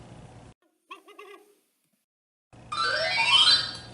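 An owl gives a short, quiet burst of hoots lasting about half a second, followed by silence and then a louder unrelated rising sound.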